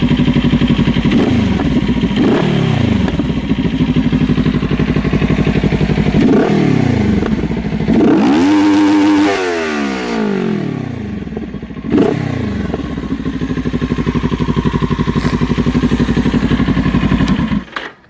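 A Kawasaki Ninja 400 motorcycle with a Norton ECU flash, its engine idling close by with a steady throb and several throttle blips that rise into revs and fall back, with intake sucking air as it opens.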